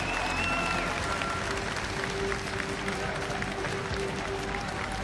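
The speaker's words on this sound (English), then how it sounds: "on applaudit encore une fois toutes ces équipes représentants de la LPL" Arena crowd applauding the LPL teams at the League of Legends Worlds 2015 player introduction, a steady dense roar of clapping throughout with a faint tone ringing over it.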